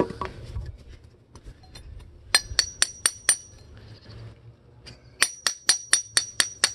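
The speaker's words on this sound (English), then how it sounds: "today's usage of a floor chisel and a hammer for installation of landscape timbers" A hammer drives a floor chisel into frozen ground while installing landscape timbers: two bursts of sharp, ringing metallic strikes, five or six evenly spaced blows each, with scraping and knocking in between.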